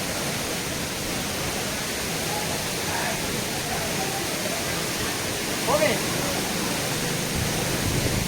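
Godhas waterfall in Nuapada, Odisha, running low on water after little rain, giving a steady broadband rush close by that holds evenly throughout, with a faint brief splash or voice near the end.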